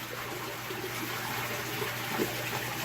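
Strong water stream spraying hard from a hose, a dense, steady hiss and rush that runs continuously at an even level throughout, with no voices over it.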